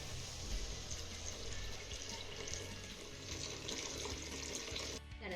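Hot water pours from a glass into a pan of frying sandge and masala, giving a steady rushing gurgle for several seconds before stopping abruptly near the end.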